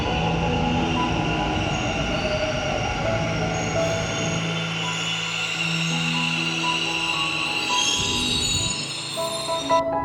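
A green line metro train runs with a loud continuous rumble and high whining, squealing wheel tones that shift in pitch, easing off near the end.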